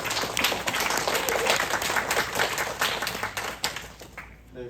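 Audience applause at the founding general meeting of the Gokseong County education council, a dense, sustained clapping from a crowd filling the room, fading out toward the end.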